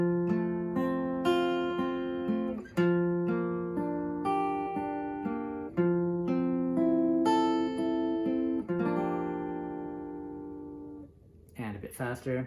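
A fingerstyle guitar plays the intro of a song slowly, with clear plucked notes and chords that ring and fade one after another, close and alone.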